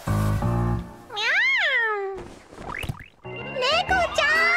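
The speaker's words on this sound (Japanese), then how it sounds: "にゃー、猫ちゃん。" A cat gives several rising and falling meows in quick succession, loud and close, mixed with voice-like sounds.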